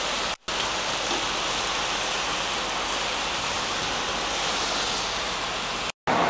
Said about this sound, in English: But yeah, it's raining out.